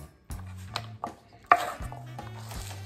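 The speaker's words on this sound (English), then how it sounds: "So right now I'm just cutting some seasoning." A knife chopping seasoning vegetables for Jamaican steamed fish on a cutting board, several distinct sharp chops in an uneven rhythm, close and clear with no talking.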